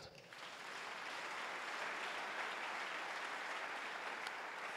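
A church congregation applauding together during a sermon, a dense, sustained wash of clapping that swells quickly and holds steady for several seconds.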